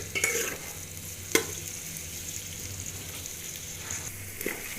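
Onions fry and sizzle in a pan, a steady hiss broken by a few sharp clanks of a stirring spoon against the metal, close up with no talking.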